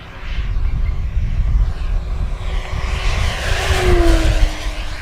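An RC Flightline 1600mm F4U-1D Corsair model airplane passing at full throttle, a loud steady propeller drone that swells and shifts pitch downward as it flies past close by.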